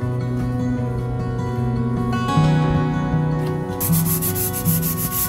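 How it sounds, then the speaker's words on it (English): Sanding on the hull of a 35-year-old sailboat during a refit, a steady close rasping rub that runs throughout, with a brighter, harsher abrasive hiss in the final second. "I thought I was done sanding."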